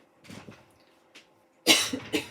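A person coughs a few times: a couple of muffled coughs, a faint one, then a louder, harsher burst of two close coughs, with no speech.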